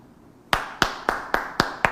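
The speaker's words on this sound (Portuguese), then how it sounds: "Aplausos aos nossos 3 senadores." Six sharp, evenly spaced hand claps ring out close and distinct after a short quiet start, a slow rhythmic clapping in applause for three senators.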